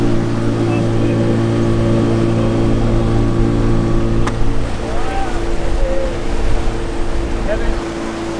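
A motorboat engine drones steadily as the boat moves over water in Amsterdam, with wind and splashing around it and people talking faintly now and then.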